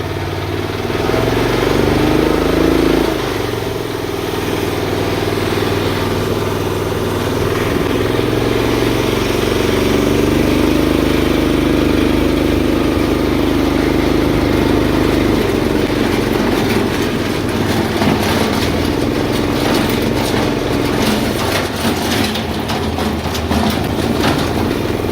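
A door-less Honda CR-V with a swapped Volkswagen Corrado engine drives along, its engine drone and road rumble loud and steady throughout, pitch shifting slightly as it moves, heard from inside the open cabin.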